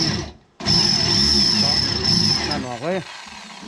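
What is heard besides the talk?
power drill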